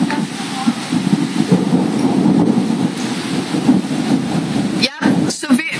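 Thunder and rain during a violent thunderstorm in New York City, a continuous loud wash of rain with rolling rumble and a sharp crackling burst near the end.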